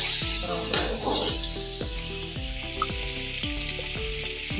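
Chicken frying in oil in a kadhai for shaljam chicken curry, a loud continuous bubbling sizzle with rhythmic spoon clinks against the pan, close and steady throughout.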